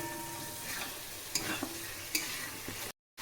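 Potatoes and spices sizzle steadily in a pan with a little added water for a ghugni curry, while a spoon stirs with a few sharp scrapes and clinks; the sizzle cuts off briefly near the end, and no one speaks.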